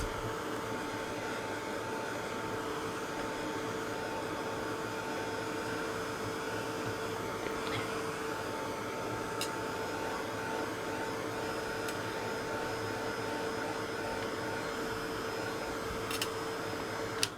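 A hand-held dryer blows a steady, even whir for over fifteen seconds while seam binding ribbon is dried off, with faint clicks here and there and nobody speaking.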